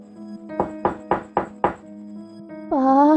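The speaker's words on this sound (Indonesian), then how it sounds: "suara ketukan pintu di depan rumah terdengar kembali" Five steady knocks on the front door of a house sound loud and close over a low steady hum, then a rising tonal drone takes over.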